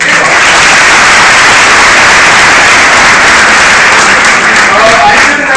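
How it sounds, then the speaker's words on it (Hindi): A crowd at a party event claps for itself on cue, loud, dense and continuous throughout with no pause. "एक बार अपने लिए ताली बजाओ, कम ऑन"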